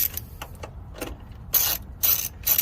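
A ratchet removing the grille bolts on a 2021 Ford F-150, giving several short bursts of clicking ratchet strokes, close and fairly quiet, with no speech.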